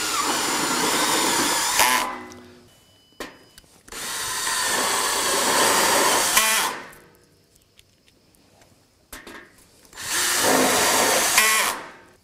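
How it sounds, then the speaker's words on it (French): Power drill driving screws into a metal frame for a slab terrace, with three sustained whirring runs separated by short pauses and faint clicks, loud and close with no talk. "Et je peux maintenant visser directement, toujours avec 4 vis à chaque jonction."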